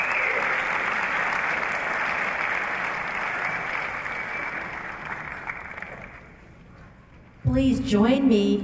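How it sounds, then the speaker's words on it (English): Audience applause at a church music concert, sustained broad clapping that slowly thins and fades, followed by a voice speaking up clearly near the end. "Join me in giving a round of applause"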